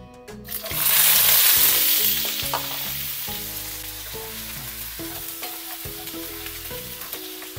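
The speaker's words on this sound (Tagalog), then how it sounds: "Next naman, i-fry din natin itong patatas at carrots." Potatoes and carrots drop into hot oil with a loud burst of sizzling that settles into steady frying and crackling, with faint music playing under it and no talking.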